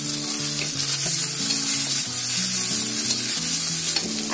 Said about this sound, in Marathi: आता हे मसाला आपले जेवढा टाकलाय ना तो चांगला बघा फ्राय झालाय